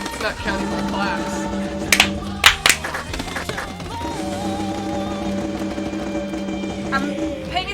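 Hand claps played along to music in the Donkey Konga video game: a few sharp claps near the two-second mark over a steady musical backing, with people talking in the background.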